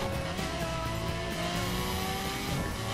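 A Lamborghini engine in the racing game The Crew roars and revs continuously, loud and close, with rising and falling pitch as it speeds away during a police chase, with no talking.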